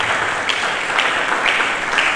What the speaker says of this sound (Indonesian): Mari kita berikan tepuk tangan yang baik.